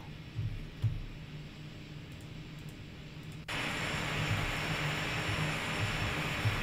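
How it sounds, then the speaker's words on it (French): Exterior engine noise of a Pilatus PC-12 turboprop in X-Plane 12, a steady broadband drone that jumps to a louder, brighter roar partway through and then holds steady with no talking. "au départ on va écouter un petit peu le son de l'avion"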